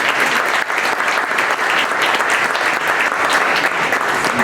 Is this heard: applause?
yes